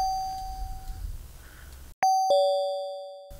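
An FM-synthesized doorbell made in the Sylenth1 synthesizer sounds: a soft sustained tone, a pause, then a bright two-note ding-dong with clean metallic tones that ring and fade.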